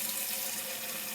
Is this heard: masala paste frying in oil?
no